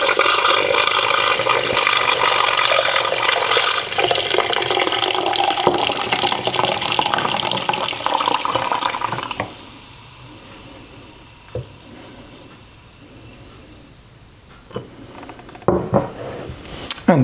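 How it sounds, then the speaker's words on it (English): A reconditioned Sparklets Aerators Type B soda siphon produces soda water, a loud rushing, bubbling hiss of gas and liquid for several seconds that then drops to quieter gurgles and a few sharp clicks near the end. "Let's show it producing some soda water."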